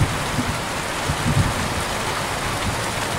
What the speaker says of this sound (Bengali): কিন্তু বৃষ্টি পড়ছে, খুবই ভালো লাগছে।